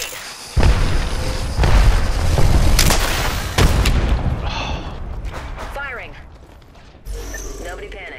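Gunfire in the Apex Legends video game during a squad firefight, with repeated loud shots and booms bursting over sustained action noise, while players talk over it.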